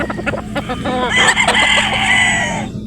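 Game fowl rooster from a Sweater-Boston bloodline on a Batangas game farm crows loudly and close, a single drawn-out cock-a-doodle-doo rising over a few short clucks, with other birds faint in the background.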